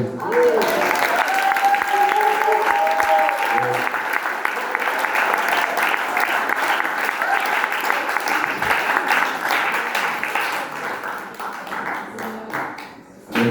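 Audience applause after a spoken-word performance at a faith testimony arts event in Fréjus, sustained clapping from a crowd with a voice speaking over the start, fading toward the end.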